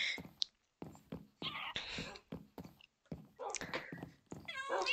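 Cat meows in a video game, several short mewing calls with pauses between them, fairly close and clear, with other game sounds and brief gaps of silence.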